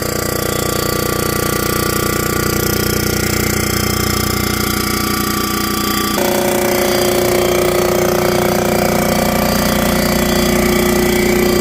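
A machining final pass across the middle of cylinder heads for screw-in studs on a 327 engine: a loud, steady grinding and cutting drone that shifts pitch partway through and runs without talk.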